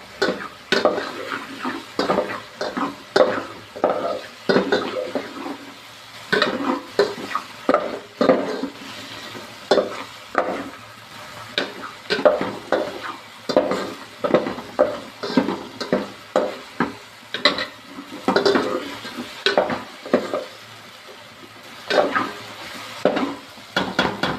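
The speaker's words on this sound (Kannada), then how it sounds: "ಇವಾಗ ನೆಕ್ಸ್ಟು ಅದನ್ನ ಸ್ಟೀರ್ ಮಾಡೋಣ." Pasta is stirred in hot oil in a pan, with chilli powder added, giving repeated close scraping and clinking strokes of a utensil against the pan over a faint sizzle, in an uneven steady rhythm with no talking.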